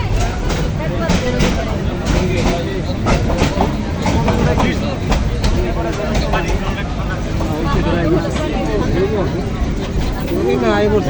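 Interior of the packed, moving Dewanganj Express train in Bangladesh: a loud continuous rumble and rattle of the carriage with dense crowd chatter and voices throughout.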